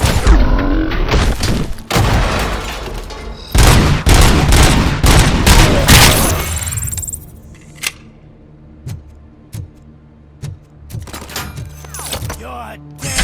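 Gunfire in Robocop: Rogue City comes as loud, rapid bursts of shots packed densely at first, then thinning into isolated sharp reports and scattered impacts.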